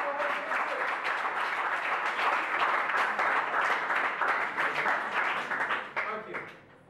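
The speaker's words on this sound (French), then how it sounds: "On applaudit très très très fort." Sustained applause from an audience at a school competition for a male student, steady and fairly loud for about six seconds before tapering off, with some voices mixed in.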